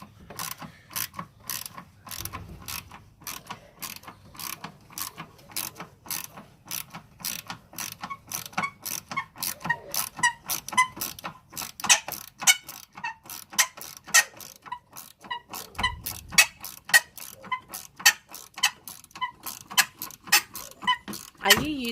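A hand ratchet tool loosens a rusty car battery clamp, its rapid, steady clicking pawl running close and continuous throughout, with a brief low thump or two in between.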